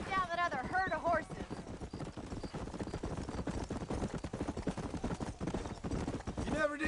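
Horse hooves clip-clop at a steady trot in Red Dead Redemption 2, close and rhythmic, with someone talking over the start and a horse whinny near the end.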